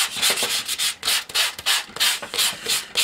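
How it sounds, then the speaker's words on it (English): A sanding block rubs back and forth in steady quick strokes over a crafting piece, loud close scratchy bursts in a regular rhythm with no voices. "Get my own sanding block."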